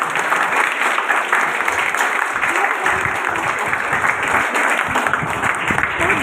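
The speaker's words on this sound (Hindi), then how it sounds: "एक बार सब लोग इन बहादुर बच्चों के लिए जोरदार ताली।" Steady, loud crowd clapping fills an auditorium at a World Thalassemia Day program, the audience applauding brave children with a continuous wash of hand claps and a faint voice underneath.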